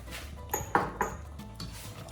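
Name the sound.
stirring ogbono soup in a pot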